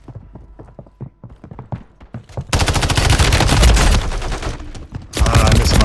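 In Call of Duty: Warzone 2, a quick run of separate shots gives way to sustained loud automatic gunfire, which breaks off briefly and then resumes at full intensity.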